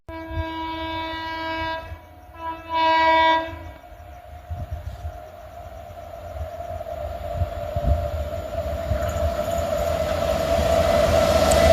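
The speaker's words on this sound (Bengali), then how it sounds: "বোলপুর হাওড়া শান্তিনিকেতন এক্সপ্রেস।" The Bolpur–Howrah Shantiniketan Express sounds its horn in two long blasts, then rolls past with a rising rumble of wheels and carriages that grows louder and nearer toward the end.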